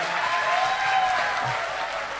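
Sustained crowd applause at a motivational gathering, many hands clapping in a steady, moderately loud wash with a faint hum underneath and no voices over it.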